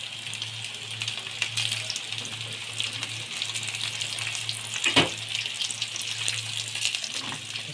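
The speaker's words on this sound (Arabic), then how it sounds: "هنقلي بقى ايه البلطي كده" Tilapia fish fries in hot oil, a loud steady close sizzle and bubbling hiss throughout with a brief sharp burst near the middle, no talking.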